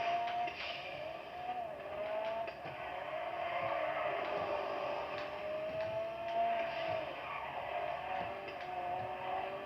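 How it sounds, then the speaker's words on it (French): Sports car in GTA 5 accelerating with turbo, a steady droning engine that rises and falls through a few short accelerations, moderately loud and continuous with no talk. "Donc on va la pousser un petit peu, faire quelques petites accélérations, tout ça."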